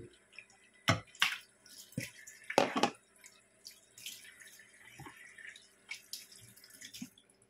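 Tap water runs and splashes while a peeled potato is rinsed by hand in a sink, with close, irregular bursts of spatter and drips.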